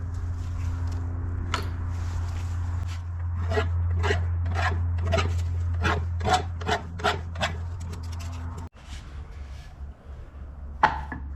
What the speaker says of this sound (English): There's a little bit of a burr on the end of this key, so I'm just going to take that off